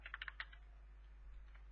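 Computer keyboard typing, a quick cluster of several soft keystrokes at the start and then a faint tap or two, quiet over a low steady hum.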